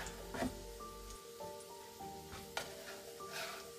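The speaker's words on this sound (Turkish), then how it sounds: "Domatesi de şöyle 3-4 dakika soteliyoruz." Diced tomato sautéing in a pan for a Turkish seafood meze, a soft steady sizzle with light crackling and a faint pan clink, quiet and close with no talk.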